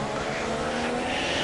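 Race car engine held at high revs through the gears in a wet Shanghai sim racing round, a steady dense roar with no short shifting, loud and continuous throughout.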